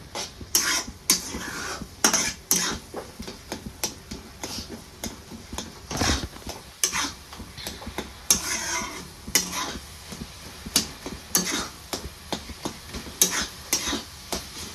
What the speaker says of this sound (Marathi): बारीक गॅस ठेवते मी आणि 2 मिनिटासाठी ह्याला छान असं मिक्स करून घेते.